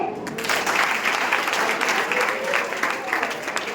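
Dense applause from an audience at a college Women's Day prize ceremony, a few seconds of steady clapping right after a first-prize winner in an essay competition is announced.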